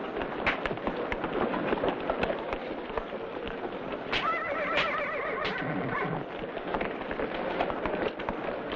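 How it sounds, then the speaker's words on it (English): Saddle bronc bucking horses loaded into rodeo chutes give a clear, wavering whinny midway through, over dense, continuous noise of the arena and clattering hooves. "the bucking horses for the saddle bronc event are loaded into the chutes"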